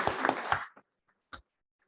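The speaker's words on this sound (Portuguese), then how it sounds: "Muito bem, uma salva de palmas para os dois." Audience applause at a Portuguese-language talk on José Bonifácio: a dense round of clapping that stops abruptly after under a second, followed by a few scattered single claps in near silence.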